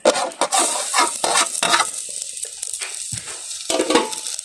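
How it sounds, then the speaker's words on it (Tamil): Chicken fat frying in a cooking pot, a bright crackling sizzle broken by scraping stirs and sharp knocks, close and loud, with no talk. "கொழுப்பை வந்து சட்டிக்குள்ளே போடுவோம்."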